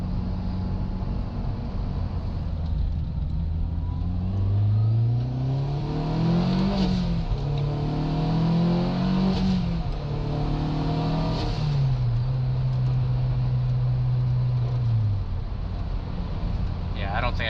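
A Mugen Honda Civic Si engine revs up hard in second gear, its tone climbing steadily, dipping briefly and climbing again, loud and close from inside the car, with people talking over it.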